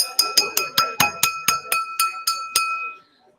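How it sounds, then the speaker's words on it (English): A drinking glass dinged loudly and rapidly, about eleven bright clinks at an even rhythm, ringing tones that fade out after the last strike, close and loud. "I'm gonna ding my glass real loud."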